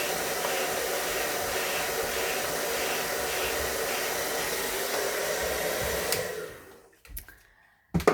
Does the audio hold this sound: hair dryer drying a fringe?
yes